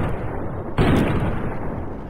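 A heavy gunshot blast in Fallout: New Vegas bursts out loud and close partway through, then rumbles on over a continuous noisy game background.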